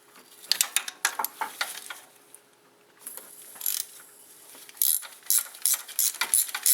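A ratchet wrench loosening bolts on the cooling system of a 2002 Dodge Dakota, with quick bursts of clicking pawl strokes separated by brief pauses, close up and moderately loud, with no talking.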